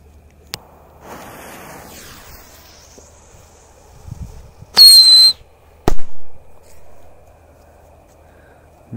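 A small "mouse" firework set off at night outdoors: a sharp pop, then a short whistling screech, followed by a couple of loud cracks and hissing bursts against a quiet background with faint wind.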